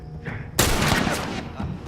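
Gunfire in the video game The Last of Us Remastered: one sudden loud shot with a sharp crack, then a rolling, reverberant tail that fades over about a second.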